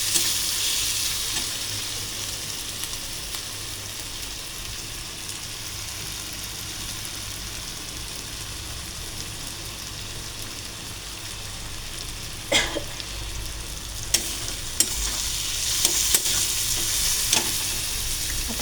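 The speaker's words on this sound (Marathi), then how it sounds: "त्याच्यात मी लसूण मिरचीची पेस्ट, 2 कांदे आणि 1 टमाटर टाकलं आहे. आता हे चांगलं लाल होईपर्यंत व्यवस्थित भाजून घेते." Garlic-chili paste, two onions and a tomato frying in a pan, a steady close sizzle running throughout, with a few sharp clinks and scrapes of stirring toward the end.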